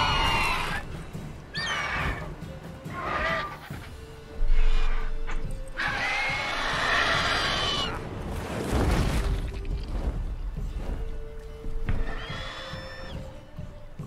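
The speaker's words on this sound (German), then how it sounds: "Da wird wohl ein Pferd von einem Monster gefressen." Several horse whinnies and neighs from the video game The Witcher 3: Wild Hunt come in bursts, some close and loud, with shuffling noises and soft sounds between them.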